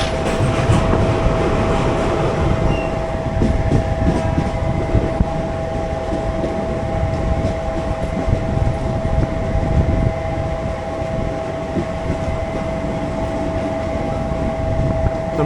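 A Mumbai Harbour Line local train runs steadily between stations, with a loud continuous rumble, rail noise and a sustained tonal hum close by and alone throughout.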